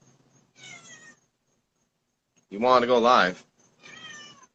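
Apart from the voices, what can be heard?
feral cat meowing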